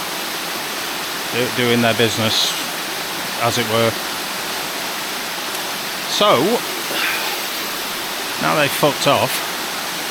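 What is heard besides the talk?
mountain waterfall at Middle Black Clough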